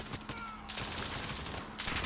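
Suppressed AUG rifle fire in Call of Duty: Modern Warfare (2019), a dense run of muffled shots with a few sharper bursts standing out, steady and loud throughout with no talking.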